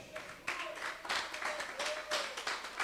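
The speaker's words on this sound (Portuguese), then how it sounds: "Pode aplaudir forte." Clapping and applause from a church congregation swell in bursts over a preacher's voice, moderately distant and fairly faint.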